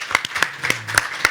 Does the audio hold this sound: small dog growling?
no